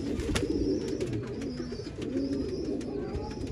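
Several desi pigeons from a Punjabi loft coo continuously nearby, their low overlapping throaty calls forming a steady bed with occasional faint higher notes.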